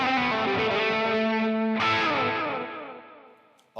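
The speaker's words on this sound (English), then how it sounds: "I get a much slower, much louder delay" An electric guitar sustains a loud, distorted chord through a slow, loud delay effect on a live rig; a second strummed chord rings out and its echoes fade gradually before a brief noise at the end.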